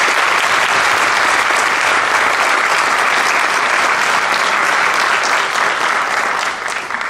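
Sustained applause from a large audience honoring retiring staff at a school board of education meeting, a dense, loud, steady roar of clapping that fades slightly at the very end.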